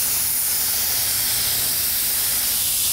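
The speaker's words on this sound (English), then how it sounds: "be sure that you move your spray gun back and forth in a continuous motion so that your paint isn't building up and dripping" Paint spray gun sprays a steady, continuous hiss of paint onto detailed wicker furniture, loud and close with no breaks and no talking.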